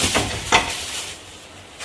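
Meat dropped into a pan of sizzling fried masala paste for a tapioca biryani, giving two short bursts of crackling sizzle and clatter, then a steady soft frying hiss, close and fairly loud.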